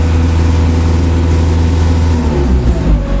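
An RX tractor's diesel engine runs steadily at a set RPM, then its pitch shifts and dips near the end as the clutch pedal is pressed; a loud, close, continuous drone with no talking.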